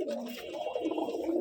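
A gerebaj pigeon kept in a new cage coos low and close, a soft, steady throaty murmur.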